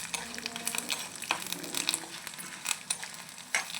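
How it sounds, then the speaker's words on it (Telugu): Green chillies, lentils and coriander seeds crackling and sizzling in hot oil, with irregular sharp pops over a steady fry, close by. "మిర్చి పేలుతున్నాయి."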